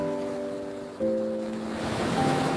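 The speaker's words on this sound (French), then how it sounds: "Les vagues arrivent," Ocean surf at the end of the day, waves rolling in one after another as a steady wash of broadband noise with a soft tonal drone underneath, swelling slightly toward the end.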